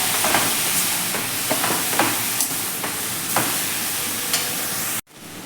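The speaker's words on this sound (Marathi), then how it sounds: "मिडियम गॅसवरती तुपावरती आपण हा बीट आता खूप छान असा परतून घ्यायचा आहे" Grated beetroot sizzles in ghee over medium heat, stirred with scraping spatula strokes, until the sound cuts off abruptly near the end and drops to a fainter hiss.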